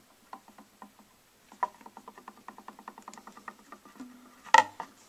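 A loose vinyl record on a turntable spindle clicks and clacks in a quick, uneven patter of small, dry knocks, close up with no talking.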